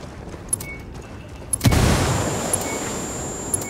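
A frag grenade detonates in a Ghost Recon Ghost War match, a sudden loud boom that rolls into a rumbling decay lasting a couple of seconds, set against quieter ambient game noise and small distant pops.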